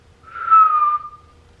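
A single clear whistled tone from a person holds for about a second, close and fairly loud against near silence.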